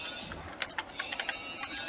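Computer keyboard typing, a quiet irregular run of light key clicks with brief pauses, fairly close and without talk.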